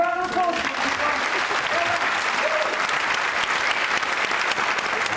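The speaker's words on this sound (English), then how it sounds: "a round of applause." An audience at a workshop discussion gives a round of applause that keeps up steadily for several seconds, with a voice heard briefly at the start.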